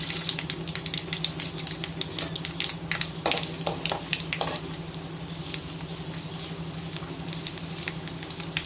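Urad dal fries in oil for tempering, sizzling steadily in a pan with sharp crackling pops early on that settle into a softer, continuous fry.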